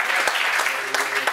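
Brief burst of audience applause, several seconds of close, dense clapping with a voice faintly underneath.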